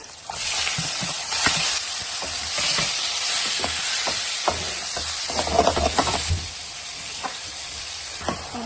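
Marinated catfish dropped into a hot pan of oil, giving a steady broad sizzle that runs throughout with scattered pops and crackles, some stirring or scraping in the pan, and no voices.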